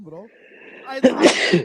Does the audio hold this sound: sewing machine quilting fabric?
no